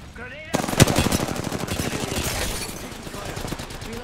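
A fast automatic weapon rattles in Apex Legends, loud and close, a sharp opening shot followed by a steady rapid stream of rounds that slowly thins, with a brief voice at the very start.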